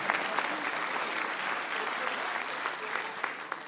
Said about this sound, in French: Ah, vous l'applaudissez,